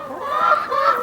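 Hens clucking inside a backyard chicken coop, a steady close chorus of overlapping throaty calls running through the whole moment.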